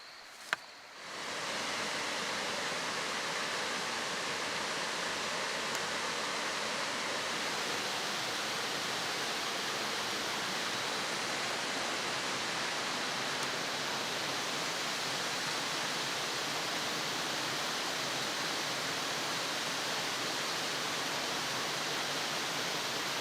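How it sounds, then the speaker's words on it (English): A river rushes below the Eagle Rock Loop trail, a broad, steady wash of flowing water that fills the whole stretch after a brief quiet start and a small click, with no voices. "It's the river down below."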